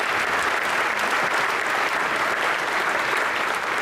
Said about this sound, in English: I want everybody in here to give them a round of applause